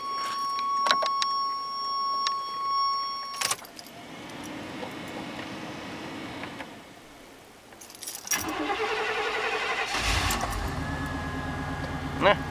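Keys jangle in the ignition of a 1988 Chevy Silverado 1500 with a 305 V8 with a broken back window. The starter cranks, the cold engine catches and settles into a loud, steady idle close by.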